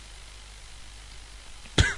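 One sharp, close cough follows near-silence as someone chokes on a drink while recording a podcast at home.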